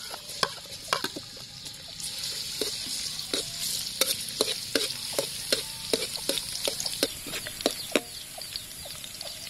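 Garlic fries in a pan with pig's tongue, making a steady close sizzle broken by frequent sharp clicks and scrapes of stirring, with no talking.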